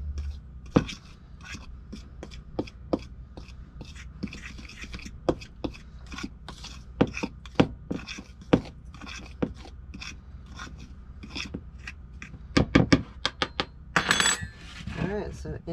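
Banana bread ingredients are mixed by hand in a bowl. A utensil knocks and scrapes against the sides in a quick, irregular rhythm, close and fairly clear. Near the end the scraping grows denser and louder.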